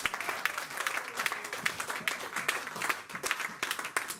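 A church congregation breaks into steady applause, many hands clapping together in a lively rhythmic wave with bright sharp claps, rising and dipping slightly throughout, with faint voices underneath.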